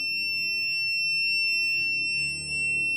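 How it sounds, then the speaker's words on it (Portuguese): A multimeter sounds its continuity beep, a steady high-pitched tone that holds unbroken for the whole span over a faint low background hum. "Meu multímetro, ele bipa abaixo de 40 ohms."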